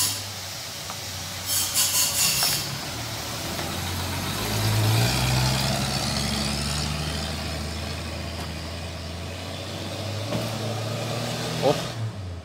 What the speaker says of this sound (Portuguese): Na marcha lenta, você viu? Nem acelerou.